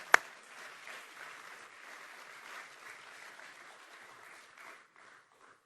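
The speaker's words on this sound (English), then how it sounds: "Can we give another round of applause?" Fairly faint applause from a conference audience at an industry planning briefing, a sharp knock at the start, then soft scattered clapping that thins out and fades toward the end.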